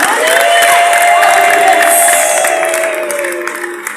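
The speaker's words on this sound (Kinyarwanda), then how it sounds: "Amashyi menshi kwa Yesu." An audience at a church gathering claps and cheers, a full steady roar of applause and shouts that fades slightly toward the end, with a sustained tone over it.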